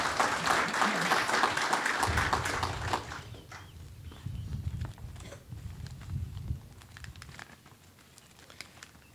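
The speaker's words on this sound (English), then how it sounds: "So I'd like to give them a round of applause," Audience applause at a Memorial Day speech, a dense round of clapping in the first few seconds that thins into scattered claps and low crowd rumble over the rest.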